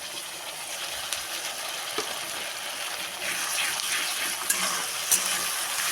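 Ginger garlic paste fries in hot oil in a home kitchen pan, giving a soft continuous sizzle with a few faint clicks, steady and moderately close with no talk.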